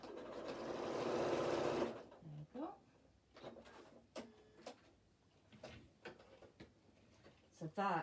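Sewing machine running a narrow reinforcement stitch, a close, rapid whirring burst lasting about two seconds, followed by quieter clicks and handling noises with a person talking nearby.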